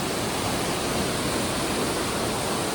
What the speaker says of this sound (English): the stream is really moving today after all of the rain